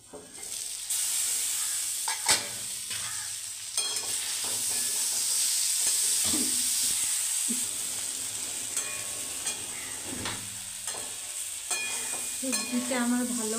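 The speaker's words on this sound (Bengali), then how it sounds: "সবজিটাকে কষিয়ে নিচ্ছি" Vegetables sautéed and stirred in a pan: a steady hiss and sizzle broken by sharp utensil scrapes and clinks against the pan at irregular intervals.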